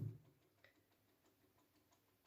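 A Vedette Transistor ATO-MAT wall clock ticks softly at a steady, regular pace, faint and close in a quiet room, after a short low thump at the start.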